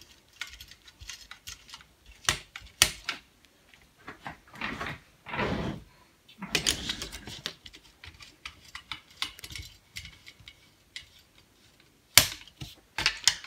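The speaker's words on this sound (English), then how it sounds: "Here's a CPU cooler, so we'll unscrew the screws." Screwdriver working loose the four screws of a CPU cooler on a Socket 775 gaming PC, producing scattered close clicks, taps and scraping rattles in irregular bursts, with a few louder clacks and no talk.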